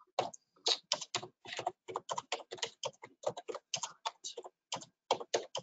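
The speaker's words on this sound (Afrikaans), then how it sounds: "Dit klink of sy die vragie vir ons tik." Rapid typing on a computer keyboard: a steady, close stream of crisp keystroke clicks in an uneven rhythm, heard alone with no talking.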